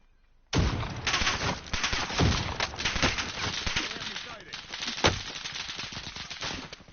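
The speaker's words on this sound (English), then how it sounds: "Wow, somebody shooting at me." Sustained bursts of automatic gunfire in the battle royale video game Warzone, loud and continuous with sharp individual shots standing out through the exchange, no voices over it.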